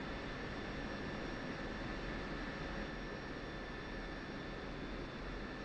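A jet aircraft taxis in the DCS flight simulator game: a steady, faint, continuous turbine whine and broad engine hiss that holds unchanged throughout, with no speech over it.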